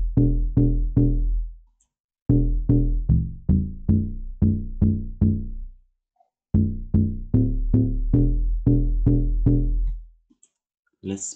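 Amapiano log drum layered with FM sub bass plays a punchy, booming pattern of repeated short notes in phrased bursts, each hit decaying quickly, with brief silent gaps between phrases and nothing else in the mix.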